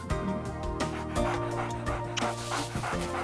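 A feisty dog with superglue stuck to its skin whimpers and yips at a vet clinic, producing close, loud, repeated high-pitched cries and short yelps over a busy, humming background.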